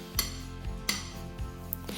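A utensil scrapes and clinks against a bowl while beet salad with horseradish is stirred, with a few sharper taps spaced across the moment, close and fairly quiet.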